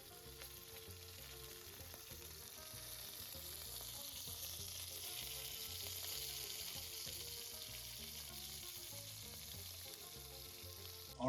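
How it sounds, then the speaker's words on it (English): Venison steak searing in a hot pan, a steady, close, loud sizzle with crackling spits that runs unbroken throughout, swelling slightly midway and ending with a brief clatter. "pan for our venison should be ready to go, and like I said, we do that rare, so it's gonna be a pretty quick sear"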